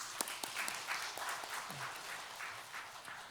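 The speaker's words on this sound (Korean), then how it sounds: "우리 박수로 환영하겠습니다" Applause from a church congregation at a Sunday worship service welcoming a young man home on leave from the military; scattered, fairly faint clapping over a few seconds.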